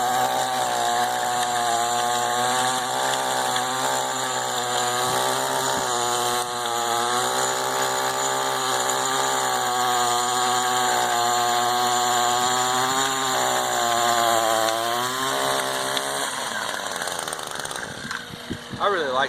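An Echo chainsaw runs steadily at close range at a demo day, its engine droning loud and even before the revs sag and it sputters out near the end.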